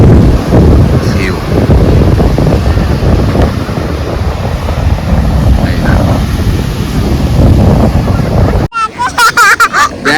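Sea waves and strong wind on the beach at Puri on a full-moon night, a continuous loud roar of surf with wind buffeting the microphone, ending with people talking close by.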